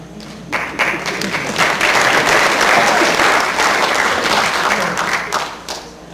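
Town hall meeting audience breaks into a loud burst of applause that swells quickly, holds steady for several seconds and tapers off, with a voice briefly heard at the edges.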